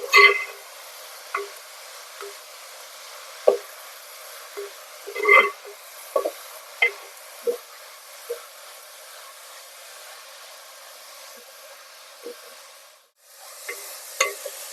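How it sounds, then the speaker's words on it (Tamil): Drumstick leaves cooking in oil, stirred in a pan, make a faint, steady sizzle broken by sparse clicks and scrapes of the spoon, with a short pause near the end before the frying resumes. "இந்த எண்ணெயில் நல்லா மிக்ஸ் பண்ணி விடுங்க ஒரு ரெண்டுலேருந்து மூணு நிமிஷம் கீரை நல்லா வேகட்டும்"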